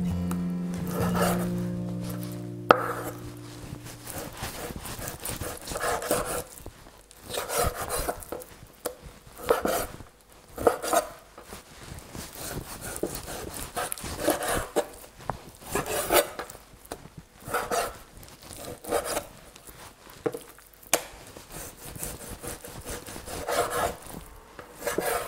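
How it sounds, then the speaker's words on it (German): A knife working through raw meat on a board, cutting coarse chunks for Asian lap xuong salami before mincing; close, repeated rubbing and rasping strokes in an irregular rhythm, with no talk. "Das werde ich jetzt in grobe Stücke schneiden, damit ich es später dann in den Fleischwolf geben kann."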